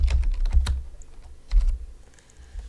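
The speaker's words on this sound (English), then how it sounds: "I'm going to go ahead and type in Tutorial 2." Keys on a computer keyboard clack in a short run of close, distinct taps, a quick cluster at first, then a pause and a few more strokes over a low hum.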